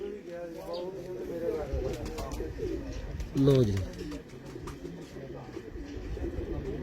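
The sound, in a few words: pigeons cooing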